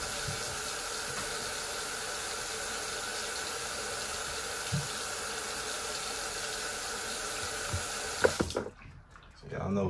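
A home shower runs with a steady, loud hiss of spraying water that stops abruptly near the end, leaving quieter room noise and a few faint knocks.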